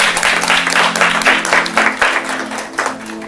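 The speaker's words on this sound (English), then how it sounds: "Let's give him a round of applause." An audience gives a round of applause at a mindfulness talk, loud close clapping in uneven surges that rise and fade several times.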